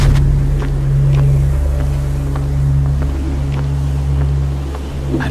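Steady roaring storm wind with a low droning hum in the Mark of the Ninja stealth video game, continuous and fairly loud with faint ticks scattered throughout and no voices.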